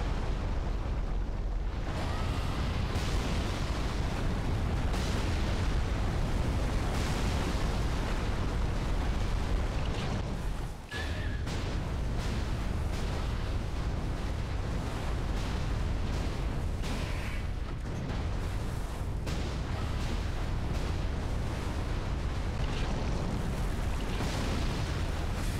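Ballista shots blasting in Dark Souls 3 during a fight with a wriggling worm creature, a dense, continuous roar of booming impacts and rumbling explosions layered over each other for the whole stretch, loud and unbroken, with no talk.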